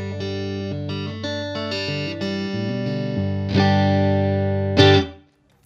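Clean electric guitar played dry, without the Vib Phaser pedal engaged. Sustained chords and notes ring out clearly and loudly, ending in a bright strum that cuts to silence.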